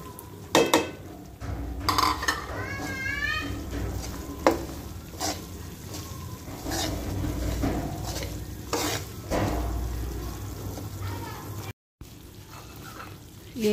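Semolina roasting with sugar and ghee in a pan, with a soft sizzle under scraping and clinking as a spoon stirs against the pan in irregular strokes, with faint talk now and then.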